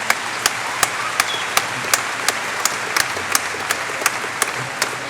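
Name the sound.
audience applause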